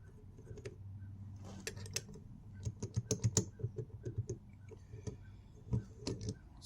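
Two lathe chuck keys, an original and a homemade copy, turned in a lathe chuck, producing a series of sharp metallic ticks and clicks in irregular clusters, close up over low room hum.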